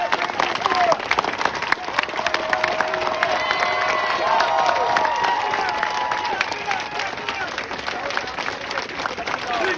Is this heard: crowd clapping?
yes